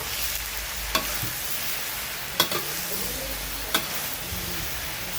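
Cabbage stir-fried with sun-dried pork in fish sauce sizzles steadily in a hot pan, with a few sharp scrapes of a spatula punctuating the continuous frying hiss.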